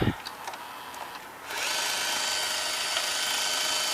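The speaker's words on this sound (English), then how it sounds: "let's press high-speed rewind. And yes, it will unload the tape." A Sony EV-C200 Hi8 VCR unloading a tape: a steady, close mechanical whir from the transport that starts abruptly after a short stretch of quieter clicking and handling, then holds evenly to the end.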